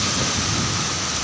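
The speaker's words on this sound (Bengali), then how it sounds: "বৃষ্টি নামতেছে" Heavy rain pours with gusting wind during a Kalbaishakhi storm, a loud, dense, continuous hiss that fills the whole short stretch without a break.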